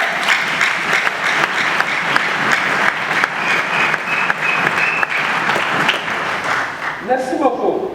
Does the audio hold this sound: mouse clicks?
no